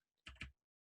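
Two quick close clicks of computer keyboard keys, struck in fast succession and then silence, clear and fairly soft.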